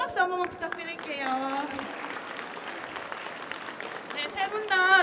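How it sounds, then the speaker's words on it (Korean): An audience at the 2012 Korean science creativity concert, a Miracle Class preliminary round, breaks into sustained applause that swells and holds steady as a host's voice speaks over the clapping at the start and end. "여러분 큰 박수 한 번만 부탁드릴게요"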